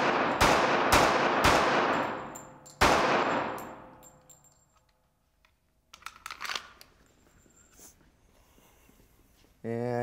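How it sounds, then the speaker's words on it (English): Several loud .45 pistol shots fired into soft body armor at a range, sharp cracks in quick succession with ringing decay, followed by quiet handling clatter and someone talking briefly. "put a few 45s in there like we did with the 9, and see what happens after 4 or 5 shots"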